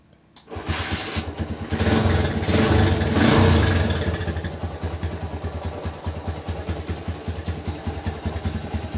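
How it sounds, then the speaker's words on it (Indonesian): A Honda GL Pro motorcycle engine cranks and catches, revs briefly, then settles into a steady, clattering idle, close and loud with no talk. "Kita coba nyalakan mesinnya."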